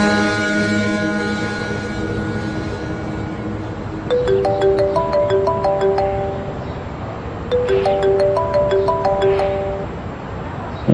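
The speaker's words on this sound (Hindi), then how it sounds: "बल्कि मैं सलमान को फोन करता हूं" A phone ringing during a call, two bursts of a bright repeating ringtone melody following a sustained tonal chord at the start, moderately loud with no talk.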